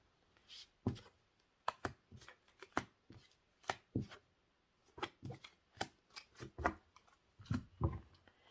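Tarot cards are shuffled and drawn by hand in a quiet room, giving a run of sharp, close riffles and snaps that come in uneven bursts and pauses, with no voices.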